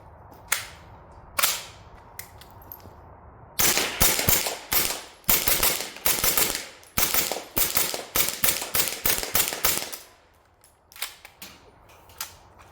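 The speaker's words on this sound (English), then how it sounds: "Here's a quick shooting clip with some subsonic ammo." An MKE AP5 fitted with a suppressor fires subsonic ammunition outdoors: a few spaced single shots, then a dense run of sharp, close cracks in quick succession, followed by a few more isolated shots.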